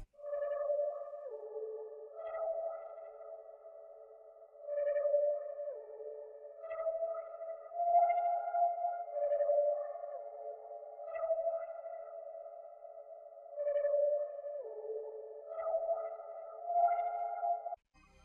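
Crystal one-shot synth sample from a 44 Floor kit plays a looping sequence of bright, bell-like tonal notes, some sliding downward in pitch, steady and moderately loud throughout with no voices.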